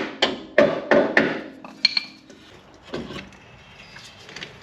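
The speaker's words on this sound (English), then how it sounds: "I'm going to use a rubber hammer for this." Several dull, thudding rubber hammer strikes during a leveling kit install on a Ford F-150, a quick run of three or four close together, then a few scattered lighter knocks with metallic clinks between.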